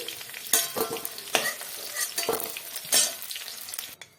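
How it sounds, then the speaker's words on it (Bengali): Parshe fish sizzles and spatters in oil in a pan, broken by sharp scraping stirs and clatters from a utensil close by. "বাকি মাছগুলো ভেজে নেব"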